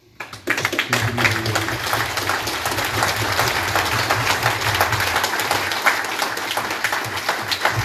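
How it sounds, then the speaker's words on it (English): An audience at a Town of Montgomery candidates' night applauds the candidates, with dense, steady clapping that starts abruptly after half a second and stays loud and continuous to the end. "Ladies and gentlemen, the candidates, give them a round of applause"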